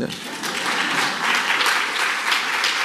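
An audience at an education forum applauds loudly and steadily, with dense clapping filling the whole stretch and no pauses.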